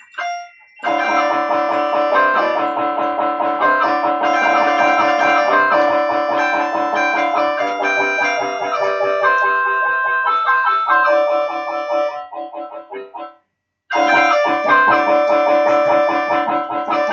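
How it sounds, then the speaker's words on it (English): An overdrive distortion guitar voice plays on a Freedom KB 668 keyboard from Aldi. A loud, sustained riff of chords and notes runs for about thirteen seconds, stops briefly, then starts again. No one talks. "this is where we go into the stuff like overdrive guitar"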